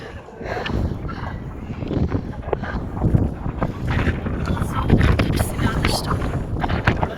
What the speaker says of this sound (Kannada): ಎಷ್ಟು ಗಾಳಿ ಇದೆ ಅಂದರೆ